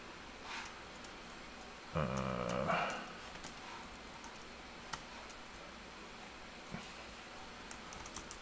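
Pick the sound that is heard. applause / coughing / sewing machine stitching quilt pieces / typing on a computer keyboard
typing on a computer keyboard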